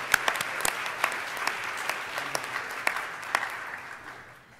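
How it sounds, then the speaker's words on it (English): Audience applause at an academic early career achievement award presentation, a thin scattering of distinct claps from a modest crowd that tapers off toward the end. "Let's give them a round of applause."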